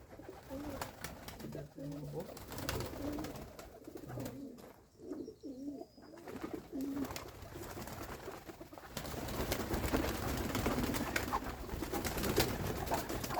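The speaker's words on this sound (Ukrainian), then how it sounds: "Дивіться, ось такий голуб до нас прибився." A pigeon coos nearby in soft, low repeated phrases, with rustling and outdoor background noise rising later.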